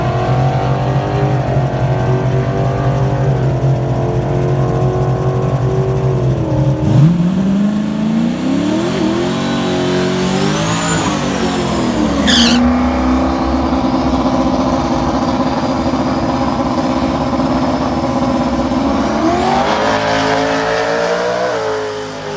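A Saleen car on a drag strip makes a full pass, its engine held at a loud steady drone, then climbing through several rising revving sweeps with gear changes before settling into a long sustained roar, close and without talk.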